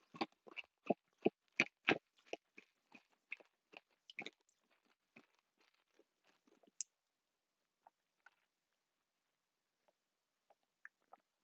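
Close, crisp crunching of food being bitten and chewed in a rapid burst of loud crunches that thin out into sparse, faint chews in an otherwise silent room.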